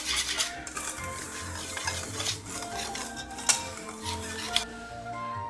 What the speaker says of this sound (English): I'll whisk those all together.